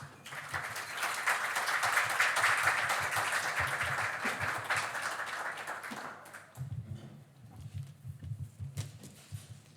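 Warm applause from an audience fills the first several seconds, then tapers off into scattered claps and room noise.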